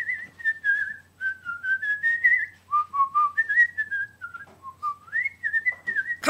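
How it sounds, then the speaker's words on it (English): One person whistles a melodic tune alone, a clear, close, sustained whistle gliding between pitches in short phrases with brief breaths between them. "4, I can whistle really, really good."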